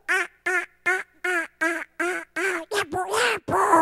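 A human voice imitates Donald Duck's quack as a rapid series of about ten loud, nasal, buzzy bursts, evenly spaced, with the last few running together.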